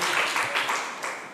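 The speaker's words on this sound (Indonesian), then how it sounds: "Tepuk tangan sekali lagi untuk Tuhan Yesus yang baik" A church congregation claps for a short burst at a New Year service, bright scattered hand claps rising and fading over about a second and a half.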